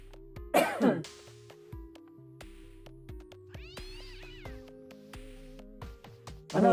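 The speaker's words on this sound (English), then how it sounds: "my neighbor has a cat that makes noise when he walks past it" A neighbor's cat meows indoors in a few drawn-out, moderately faint calls mixed with coughing and throat-clearing, over a steady low hum.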